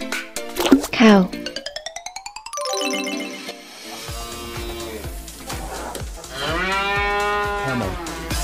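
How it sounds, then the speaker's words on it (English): A cartoon cow lets out a long, loud, drawn-out moo near the end, after a voice speaks and bright bouncy cartoon sound effects play. "Cow. Cow."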